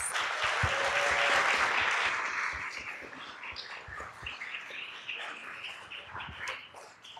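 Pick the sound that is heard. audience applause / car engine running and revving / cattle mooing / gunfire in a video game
audience applause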